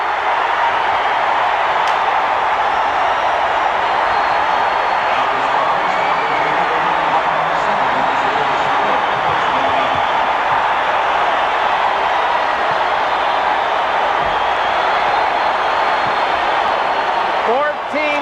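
At the end of the 1980 NCAA championship basketball game between Louisville and UCLA, an arena crowd cheers with a loud, unbroken roar.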